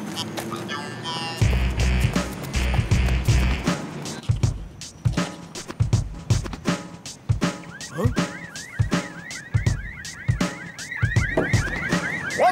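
Several car alarms blare together in a chaotic street racket, rapid chirping and warbling tones layered over clattering impacts and bursts of noise, loud and close, with brief voices mixed in.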